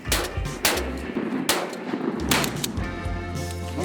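Gunfire from a military-style training exercise: several sharp, loud shots at irregular intervals, each a sudden broadband crack, over a steady background rumble.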